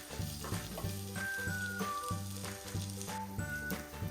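Onions, garlic and green chillies fry in a pan for a dried-fish curry, a constant soft sizzle with a regular rhythm of spatula stirs scraping the pan, moderately faint and with no talk.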